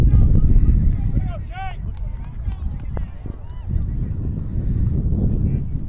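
Wind buffets the microphone outdoors at a college men's lacrosse game, a steady low rumble that covers the whole stretch, with talk mixed in and faint chirpy sounds above it.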